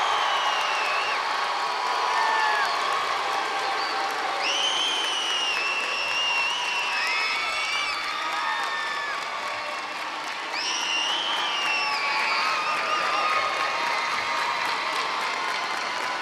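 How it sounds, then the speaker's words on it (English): A large audience at a 2012 high school graduation ceremony keeps up steady applause, with scattered cheers and high whoops rising above the dense clapping throughout, sustained and fairly full in a big hall. "one more applause for the 2012 graduating class of 8th grade Spruce."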